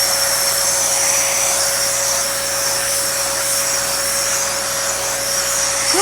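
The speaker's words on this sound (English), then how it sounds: "I know this is an animal Dyson" A Dyson Animal vacuum cleaner runs on a cat with a steady high whine and airy roar, holding a constant tone close by throughout.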